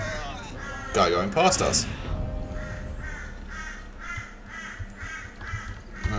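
A crow caws repeatedly from outside on a fence, a steady run of harsh calls in the background beneath a voice and video game sounds.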